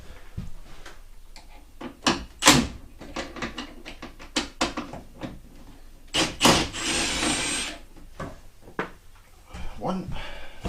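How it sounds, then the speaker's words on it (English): Small screws are undone from a scooter's faulty switch housing, giving a series of sharp clicks, taps and scraping handling noises close to the microphone, irregular and intermittent with brief pauses. "take these screws off and lift it off"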